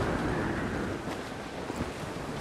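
In the Assassin's Creed IV pirate-ship game, a storm at sea blows steady roaring wind over crashing waves, a continuous loud rush with no speech.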